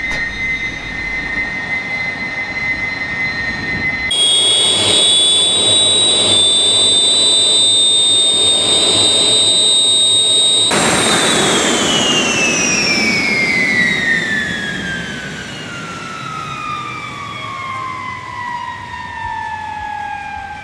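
A Fouga Magister jet aircraft engine whines loudly and steadily up close, with shrill high-pitched tones shifting in pitch partway through and then a falling whine as the engine note winds down.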